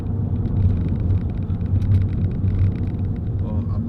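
Vauxhall Zafira 1.9 CDTi 16v diesel on the move, a steady low engine drone and road rumble holding an even, close level throughout with no voices.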